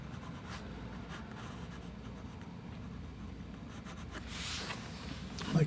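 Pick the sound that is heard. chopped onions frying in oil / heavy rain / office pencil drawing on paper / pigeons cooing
office pencil drawing on paper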